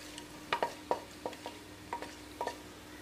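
Spices such as cardamom and cinnamon sizzle quietly in hot oil while a utensil stirs and scrapes the pan in a series of short, irregular knocks, with no talking.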